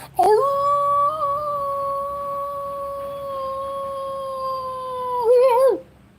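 A single sustained howl from a human voice imitating a werewolf, loud and close, holding a steady wavering pitch for about five seconds before breaking off.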